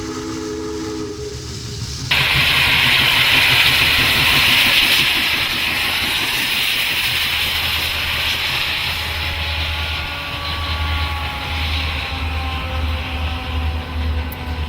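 The Challenger steam locomotive hauls an excursion train over the newly rebuilt Winslow Trestle bridge. A loud, steady roar of hissing steam and rolling rail rumble carries on throughout, with a brief whistle-like tone at the start.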